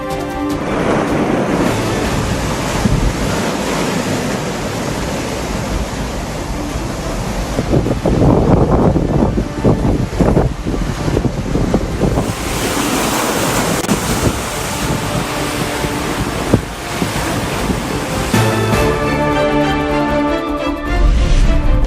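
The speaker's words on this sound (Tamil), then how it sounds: "டித்வா புயல் காரணமாக சென்னையில் கடல் சீற்றம்." Rough surf crashes continuously with strong wind buffeting the microphone on the Chennai coast during Cyclone Ditwah, a loud, churning roar with no voices.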